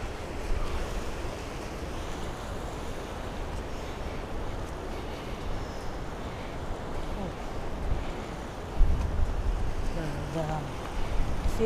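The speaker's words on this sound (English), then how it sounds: "that's the Pacific Ocean" Pacific Ocean surf off the Gold Coast, Queensland, washes in as a steady broad rush with wind buffeting the microphone, and the faint sound of a voice is mixed in.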